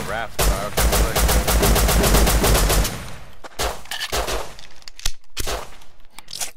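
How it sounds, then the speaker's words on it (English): Rapid automatic gunfire in the Rust video game, a dense close burst of repeated shots followed by scattered single and short volleys, with voices talking in between. "Who is shooting?"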